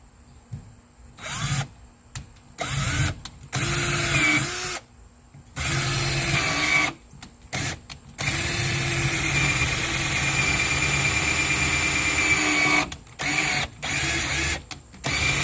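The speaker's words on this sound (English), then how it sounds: "The old drill bit." An old power drill with a 1950s bit whines and grinds in repeated bursts, stopping and starting, with steady motor noise between runs; loud and close, no talking.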